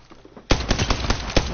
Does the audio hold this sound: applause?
no